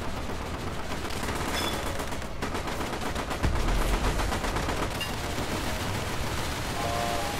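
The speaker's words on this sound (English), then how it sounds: "can't stand little gunshots." Rapid gunfire bursts from the War Thunder combat game, a dense, continuous rattle of machine-gun and cannon shots with a heavier thump midway, loud and with no voices.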